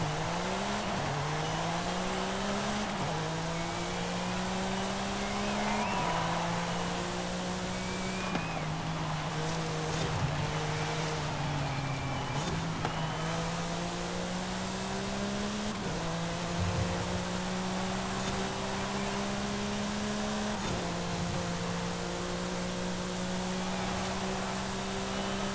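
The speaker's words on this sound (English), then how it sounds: "I'll let you listen to the engine first for a little bit" A 2021 Porsche 911 GT3 engine in the video game Forza Horizon 5 revs steadily through repeated gear shifts, pitch climbing then dropping in a regular pattern, loud and continuous with no talking.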